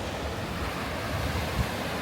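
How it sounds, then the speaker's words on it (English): Ocean surf at a Hilton Head beach on a hot, sunny day, a steady broadband wash of breaking waves with some wind rumble on the microphone, fairly loud and continuous, with no talking. "first time getting in the ocean"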